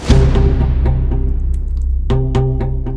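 Bass Strike, a deep cinematic hit from the Mammoth Audio Lash Pack, slams loudly and decays with a low booming rumble, then a second smaller strike with ringing tones lands partway through.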